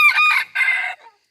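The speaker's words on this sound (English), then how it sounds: "Listen, Rooster, they can do what they want to." A rooster crows loudly and close by in two bursts, a short first call followed by a longer drawn-out second one, then silence.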